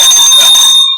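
A single bell strikes once, loud and close, with a bright ringing tone that holds for nearly a second before cutting off.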